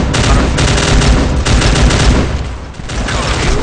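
Dense gunfire in the Special Force 2 video game during a Korea versus Taiwan clan match, with loud rapid bursts and overlapping rifle volleys rattling continuously at close range.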